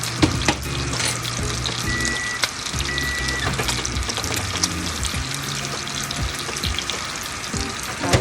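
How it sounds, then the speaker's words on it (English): Vegetable oil sizzling and frying steadily in a pan, a continuous crackling hiss heard up close with scattered clatter of utensils and no speech. "So tuloy-tuloy na yung pagpipirito natin dito."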